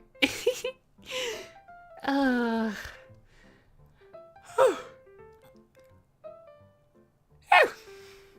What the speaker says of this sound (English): That was my yawn.